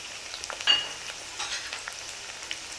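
Onions and green chillies sizzle steadily in hot oil in a pan, a close, continuous crackling hiss with a brief louder burst near the start and no voices.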